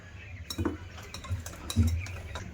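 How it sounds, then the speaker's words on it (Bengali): Batter for an eggless sponge cake being beaten by hand in a bowl, a few irregular scraping strokes with light clinks of utensil against the bowl, close and fairly quiet. "বেশ ভালো করে ব্যাটারটা ফেটিয়ে নেব"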